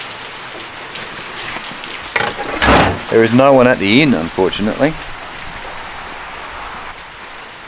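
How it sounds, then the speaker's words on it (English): Heavy pouring rain hisses steadily and loudly throughout while a man, sheltering at a closed-up inn in Australia, talks briefly over it midway. "it's pouring rain, so I'm using it as a bit of a shelter at the moment."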